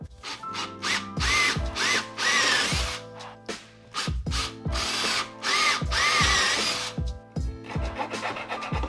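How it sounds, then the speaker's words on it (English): A power drill whines close by in repeated bursts, stopping and starting as it grinds a slot through PVC, with rough scraping between runs. "we're going to drill out a slot in the end of our body in order to insert our bow"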